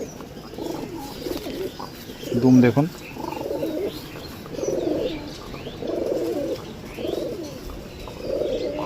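Rampuri, Nazra Kaldum and Kashmadum pigeons coo in soft, repeated low bursts close by, while someone talks over them.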